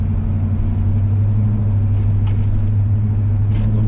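A 1960 Dodge Dart Phoenix drives along with a steady, loud low engine drone and road rumble that stays even throughout.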